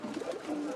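A pigeon gives a brief, soft, throaty coo with a rolling, warbling rise and fall, heard up close for under a second.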